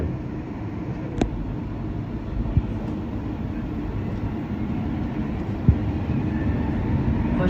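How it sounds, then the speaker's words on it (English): A Montreal subway train running, heard from inside the car as a steady low rumble and rattle with a few sharp clacks from the rails, fairly loud and continuous, with no one talking. "Subway trains are way quieter than in Moscow,"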